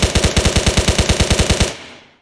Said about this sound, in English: We're downrange, shooting our weapon.